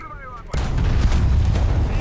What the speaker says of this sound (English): Come on, artillery.